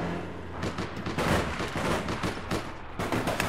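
Rapid gunfire in the online shooter APB Reloaded, dense bursts of overlapping shots crackling continuously at close range.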